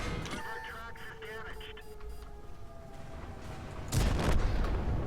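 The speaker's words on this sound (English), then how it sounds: "Now, I can fire this gun on the move." A tank gun fires with a sharp broadband blast near the four-second mark of a video game battle, ringing out over a steady engine rumble and faint whining tones.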